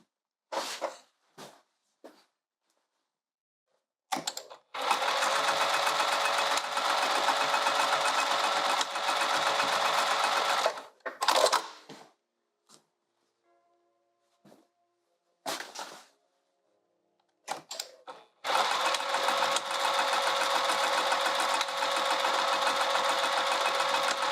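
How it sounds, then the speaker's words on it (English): Sewing machine stitching across a striped canvas tote, several long steady motor runs of a few seconds each, separated by pauses, clicks and handling of the fabric. "let's sew across here"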